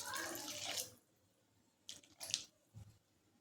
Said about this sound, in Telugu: దీనిలో లైట్గా వాటర్ వేసుకుందామండి